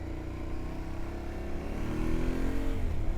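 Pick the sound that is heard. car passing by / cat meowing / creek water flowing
car passing by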